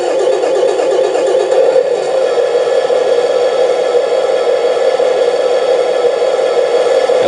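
Simulated engine from the sound module of a 1/14 scale RC 6x6 lorry truck, model 3363, running as a steady, even drone at constant loudness with no revving swells and no voices.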